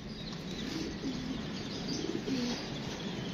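A female pigeon coos softly amid light flapping and faint chirps, a low, gentle call repeated a couple of times against steady background hiss.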